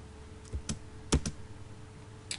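Keys tapped on a computer keyboard while entering AutoCAD commands give a handful of quiet, close clicks in short irregular bursts.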